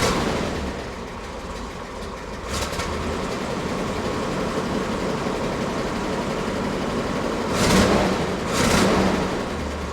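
A car's engine and exhaust run steadily after a cold start on a chilly Florida day, a continuous low rumbling drone with a couple of brief swells, fairly close, with no talk.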